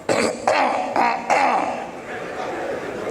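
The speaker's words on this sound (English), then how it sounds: "if I clear my throat the second time," Four quick rough throat-clearing bursts in a row, close and loud, followed by a fading low murmur.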